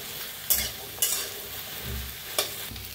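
Okra dry-roasts in a pan under constant stirring; three distinct spatula scrapes cut through a close, continuous sizzle with no talking.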